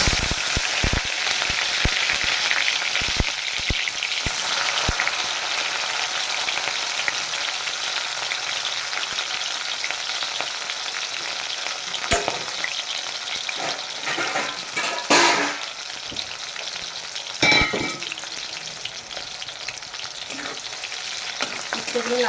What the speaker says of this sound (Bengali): তেল তো গরম হয়ে গেছে আমি উচ্ছেগুলো দেবো